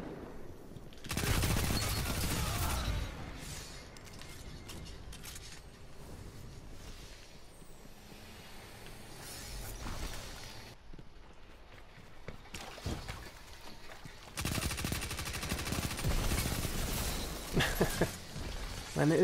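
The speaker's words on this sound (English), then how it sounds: "I'm actually doing something with this submachine gun." A submachine gun fires in the Destiny 2 video game, with dense, rapid bursts at the start and again near the end, loud and close, separated by quieter gameplay sounds.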